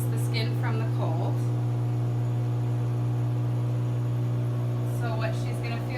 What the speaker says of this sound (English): So we're going to start the vacuum.